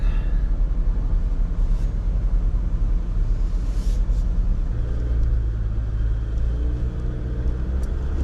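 A vehicle engine climbs a rough trail on Elephant Hill at low revs, about 1,000 to 1,500 RPM. It makes a steady, close, low rumble that labours evenly and deepens slightly near the end.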